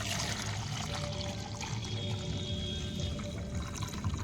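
Water is poured by the mugful into compost fertilizer for garden plants, a steady, fairly faint pouring and trickling that runs continuously with no talk.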